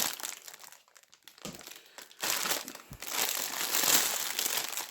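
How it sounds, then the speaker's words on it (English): Plastic packaging from a nail art haul crinkles and rustles close by in irregular bursts that grow louder and more continuous toward the end. "Sorry for the crinkling."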